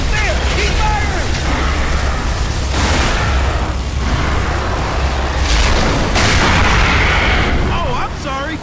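Gears of War 3 battle with continuous heavy gunfire, booming blasts and mechanical clatter filling the scene loudly throughout, while voices shout over the fighting.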